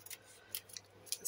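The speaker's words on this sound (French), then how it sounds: "je vais couper le bon diamètre et le coller" A few quick, faint snips of scissors cutting through stiff, card-like paper while decorating a junk journal, spaced irregularly across a quiet background.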